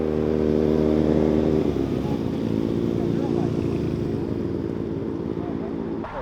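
Several motorcycles arriving in a parking lot, their engines rumbling loudly and steadily with shifting revs while people talk over them.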